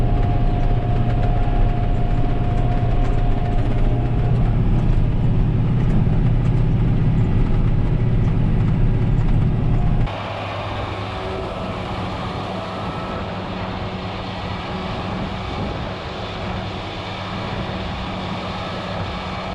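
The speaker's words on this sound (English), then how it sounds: "I'm just gonna go park this tractor for now" A farm tractor drones steadily while mowing a first cutting of alfalfa. The engine runs loud and constant, then drops to a quieter, even hum partway through, with no talking.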